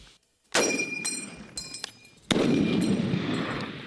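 Two loud, sharp M1 Garand rifle shots are fired outdoors, each trailing off in a ringing decay, with a faint metallic clip ping tangled in the echo of the first.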